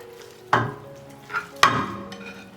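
Chopped pork fat rendering in a pot with a little water, a low background bubbling broken by two sharp, close spoon knocks against the pot and a softer stir between them, with no voices.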